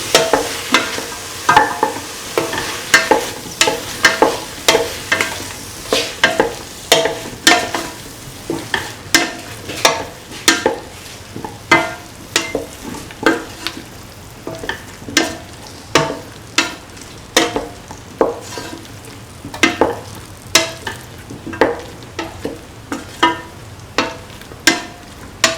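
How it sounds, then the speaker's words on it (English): Potato and bottle gourd stew stirred in a sizzling pan, a spoon scraping in a steady repeated rhythm of roughly one stroke per second over a constant frying hiss, loud and close, with no talking. "Keep on mixing."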